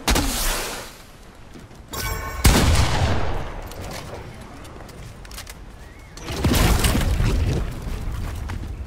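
Loud gunfire in a Fortnite duos match, with heavy bursts of shots around the start and again later, separated by a quieter stretch of lingering in-game noise.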